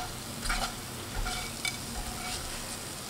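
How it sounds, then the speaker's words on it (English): Whole spices, black pepper and cloves, frying in a small amount of oil as tomato soup begins. A faint, soft sizzle carries light stirring scrapes that come in short bursts, with no one talking. "So first we are adding all our spices and frying it."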